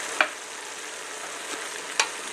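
Burger remnants with garlic and onion sizzling steadily in a pan while being stirred, a constant bright hiss close up with a couple of soft scrape taps, no talking.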